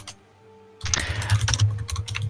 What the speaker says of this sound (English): Stop typing. I can hear it.